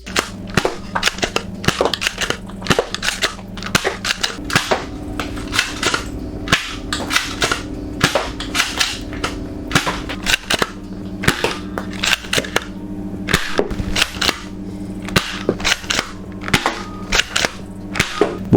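Rapid, loud toy blaster shots crack out in a steady burst, each sharp pop fired through a T238 Daybreak silencer with an RGB tracer, close and continuous for the whole stretch with no talking.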